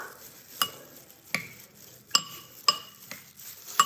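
Spoon or utensil clinks against a pot while boiled pasta for white sauce pasta is stirred, sharp metallic taps at irregular intervals about every half second to second, close and alone.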